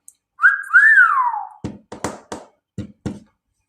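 A person whistles a bright rising-and-falling melodic phrase, then several sharp hand taps or claps follow in quick succession, close and clear with no talking.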